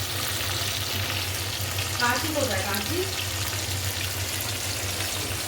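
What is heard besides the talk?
fish frying in oil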